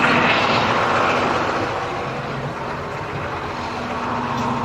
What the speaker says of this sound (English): All right, in the tractor we go.